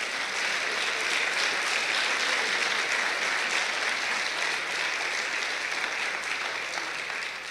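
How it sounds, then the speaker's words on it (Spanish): Loud, sustained applause from a church congregation rolls on without a break, dense and even, with no voices standing out above it. "Dale un fuerte aplauso al Señor"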